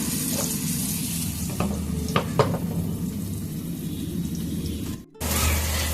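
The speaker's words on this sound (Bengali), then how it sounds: "আমি কিন্তু হাই ফ্লেমেই ভাজছি, এগুলো কিন্তু একদম লো ফ্লেমে ভাজিনি বা মিডিয়ামে নয়।" Pointed gourd pieces fry on a high flame, giving a steady close sizzle with a few sharp spatula scrapes and clinks against the pan, and a brief break near the end.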